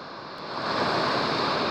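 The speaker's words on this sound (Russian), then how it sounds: "Набегает здесь волна Черного моря." Black Sea waves roll in at the mouth of the Mzymta river in Adler, a broad, steady wash of surf that swells slightly louder after the start, with no voices.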